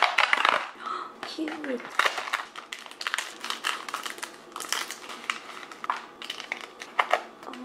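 A Popin' Cookin kit packet being opened ASMR style, with close crinkly plastic rustles, tearing and small clicking handling noises in irregular bursts, and a voice speaking briefly.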